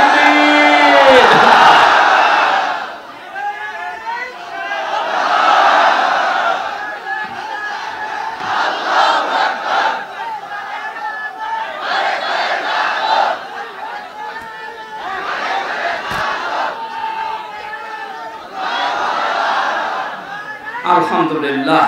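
A large crowd at an Islamic sermon gathering roars the takbir chant in answer to a preacher, swelling in repeated loud waves of massed voices across the whole stretch.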